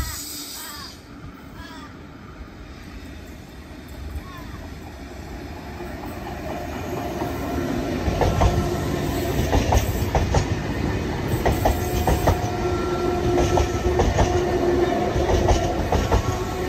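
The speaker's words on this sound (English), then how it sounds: "I'll just be filming all other trains I see between now and then" A train passes through West Ryde station in Sydney, its rumble building to a loud, steady roar with rhythmic wheel clatter and faint squeals, heard close by.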